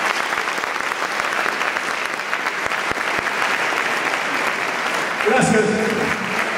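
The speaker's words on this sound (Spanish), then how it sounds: "Un aplauso para Marco." Audience applause at the MUSSICO 2018 music awards ceremony, a steady dense clapping from a sizable crowd that swells slightly near the end, with a brief spoken voice over it.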